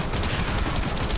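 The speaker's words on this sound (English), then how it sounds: "it took quite a few shots to kill those enemies" Rapid, dense gunfire from the Catchmoon weapon in the video game Warframe fills the moment in a loud, continuous burst of overlapping shots.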